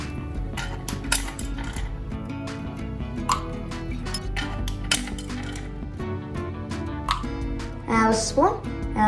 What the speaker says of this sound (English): Adding some ice cubes.